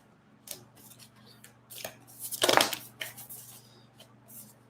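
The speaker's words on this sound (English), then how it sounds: "I love new cards because it's like always so hard to shuffle them." A new deck of tarot cards being shuffled close up, a series of crisp riffling and slapping bursts with brief pauses between them.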